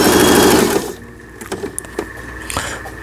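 A Brother household sewing machine runs a straight stitch in a fast, even mechanical whir for under a second, then stops, leaving faint clicks and knocks close by.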